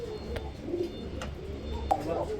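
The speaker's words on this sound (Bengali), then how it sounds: "দেখতেই পাচ্ছেন এক জোড়া কুকা কবুতর। এইভাবে কেউ কি ডাক দেখাইতে পারে বন্ধুরা?" A pair of Kuka pigeons giving soft, low cooing calls, fairly quiet against faint background noise, with a few short sharper sounds mixed in.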